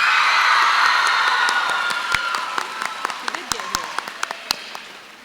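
At a 2019 school promotion ceremony, an audience cheers and applauds a student. A loud burst of clapping and whoops fades into scattered, sharper individual claps near the end.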